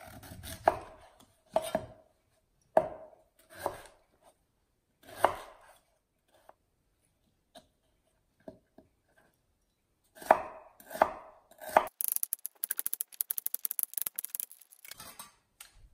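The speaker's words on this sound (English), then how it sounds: "now I'm going to cut my beet about in the same size as the parsnip" A knife chops a beet into even pieces on a cutting board, with crisp separate cuts spaced apart at first, then a quick run of rapid chops near the end.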